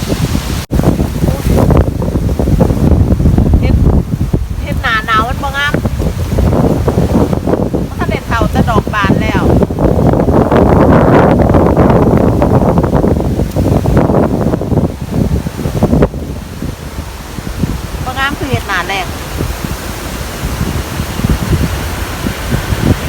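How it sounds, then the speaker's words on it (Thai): Strong wind roars and buffets the microphone almost constantly while foraging for mushrooms outdoors in rainy weather, with short bursts of talking heard through it. "ลมมากฮะ"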